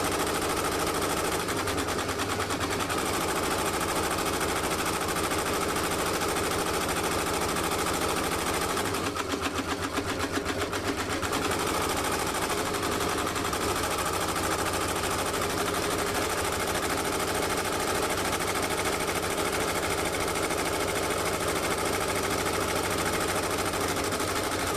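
An embroidery machine stitches a satin stitch around an X on a cap held in a Durkee side-front hat hoop, a steady loud mechanical whir running throughout with brief rattling bursts.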